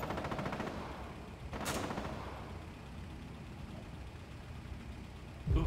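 Video game gunfire: a rapid burst of shots at the start, then a single sharp crack and another loud bang at the end, over steady background hum.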